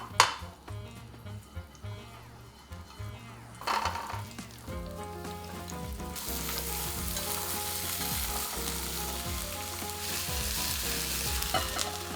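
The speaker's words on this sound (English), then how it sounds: "and carrots in a bit of oil" Carrots sizzle and crackle in hot oil. The frying grows louder and steadier after a few seconds, with occasional stirring clatter.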